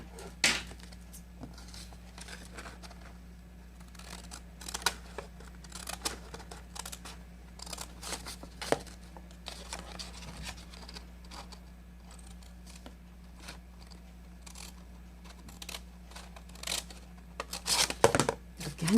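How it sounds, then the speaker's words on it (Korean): Scissors cut a sheet of origami paper in quiet, sparse snips and clicks scattered irregularly over a low steady hum, close by, with no talking. "한 장만 잘라줍니다."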